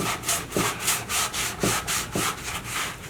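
Rhythmic back-and-forth scrubbing of a plastic part with waterborne cleaner, about a dozen close, even rubbing strokes with no talk.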